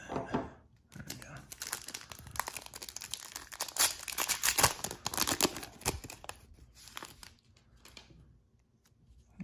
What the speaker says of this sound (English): we're just going to cut into that